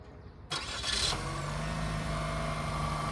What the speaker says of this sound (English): Very quiet purr to that engine